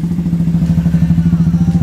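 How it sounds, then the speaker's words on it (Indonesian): Benelli motorcycle engine fitted with a Honda Tiger piston runs at a steady idle, a loud, close, rhythmic low chug with light mechanical clatter and no voices. "kondisi motor Benelli sudah menyala"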